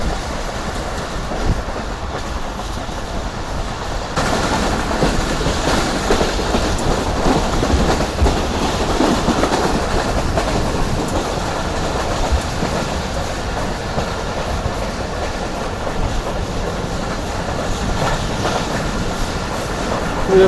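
The Karakoram Express passes Pir Abdul Hakim, raising dust: a loud, steady roar of rolling wagons with rhythmic wheel clatter that holds throughout at close range.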